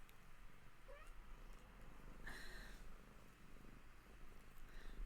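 A cat purrs softly and continuously close by, a low faint rumble over a quiet indoor background, with a brief faint chirp partway through.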